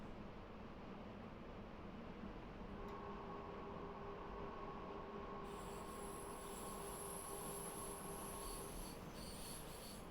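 A train on the Mittenwaldbahn in a rail simulator game brakes with a long, thin wheel squeal that sets in partway through over a steady low rumble, rising into brighter screeching toward the end.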